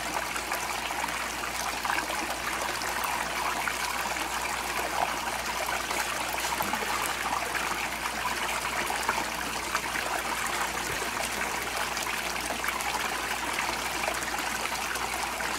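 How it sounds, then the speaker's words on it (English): Fast-flowing water rushes steadily through a gold sluice set at a shallow five-degree pitch, a continuous broadband wash with no breaks, close and fairly loud throughout. "I think the water's going way too fast"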